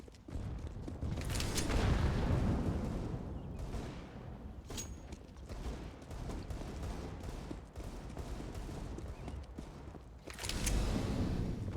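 A grenade blast during an online shooter game, a loud boom near the start followed by scattered gunfire bursts and a second heavy burst near the end, with no voices.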